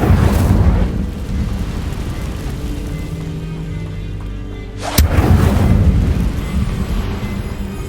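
A fiery spell cast in Hogwarts Legacy erupts as a loud, rumbling whoosh that sustains for several seconds, followed by a sharp crack and a second burst of roaring flame.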